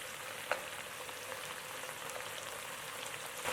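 Beef pieces cooking in broth over high heat in a wok, heard as a faint, even sizzling hiss that runs throughout with a couple of tiny pops, no voices.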